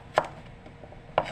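Two crisp knife strokes through pork against a cutting board while slicing meat for humba, spaced about a second apart, close and clear with no talking.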